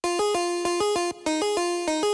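Hyperpop synth lead licks harmonized in thirds, programmed in Ableton, bounce in a quick repeating three-syllable rhythm. About a dozen short, punchy stacked notes play loud and alone, with one brief pause midway.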